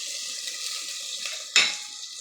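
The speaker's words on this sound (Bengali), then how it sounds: "আর একটু পানি দিয়ে দেব, মশলাটা পোড়া না ধরে" A little water is poured into frying masala for a beef curry, a quiet hiss of cooking spices followed by a sudden sharp splash and sizzling burst that fades away, close by with no speech.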